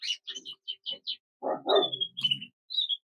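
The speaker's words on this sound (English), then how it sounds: "Here we got a variegated buff cockbird. Super bird, this one." Variegated buff Border canary cock calls in a short, close sequence of sharp chirps and whistled notes, mixed with a few rougher, harsher sounds, all in a quiet setting.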